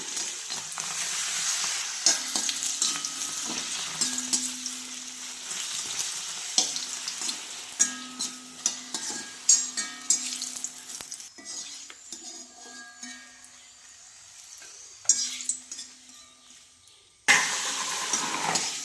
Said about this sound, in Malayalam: ഞാനൊരു 4 പപ്പടം കീറി എടുത്തിട്ടുണ്ട്. നമുക്കത് കാച്ചി എടുക്കാം.